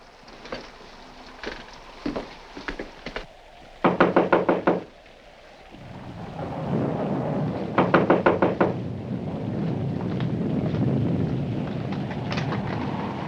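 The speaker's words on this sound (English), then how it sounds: "there's someone at the front door." Sharp knocking on a front door comes in several quick bursts of three to five raps, close and crisp, with a steady rumbling background swelling in between, in a 1946 film.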